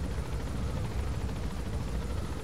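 A steady, loud rotor roar of a helicopter in flight in the video game Metal Gear Solid V, a dense low rumble that stays constant throughout with no voices.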